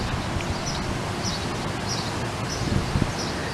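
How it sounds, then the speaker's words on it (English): Wind blows steadily across a fenced suburban backyard, a constant gusty rush with rustling leaves and faint bird chirps, no voices. "A little windy, so I'm gonna try to talk loud."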